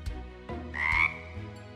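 A cartoon frog in Cry Babies lets out a short, bright croak, loud and up front, framed by soft bumps and music-like tones with no talking over it.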